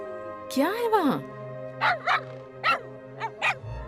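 Close dog barks and yips come in a quick run of short bursts after a rising, wavering vocal cry, set in an animated children's story.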